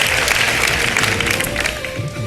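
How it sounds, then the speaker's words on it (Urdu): Studio audience applauding on a live Ramadan iftar television game show, a steady dense wash of clapping at close range throughout, with no voices over it. "آڈینس اگر آپ تیار ہیں تو ذرا تالیوں میں مجھے بتائیں"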